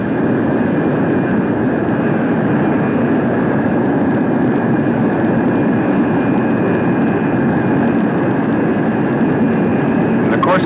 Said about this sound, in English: And now let's watch the high-speed taxi run.